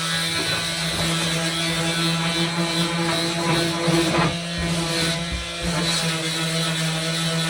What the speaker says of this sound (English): So I'm using my new mouse sander.